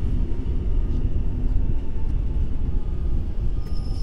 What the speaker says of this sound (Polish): Tym razem wjechał skład do Góry Kalwarii.